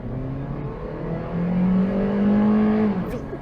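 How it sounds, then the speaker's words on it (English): A 2010 Honda Civic LX accelerating hard from a standstill toward 60 mph, heard from inside the car as a rising engine drone that climbs steadily in pitch, then eases off near the end. "So we're going to get ready to do our quick 0 to 60 in 3, 2, 1."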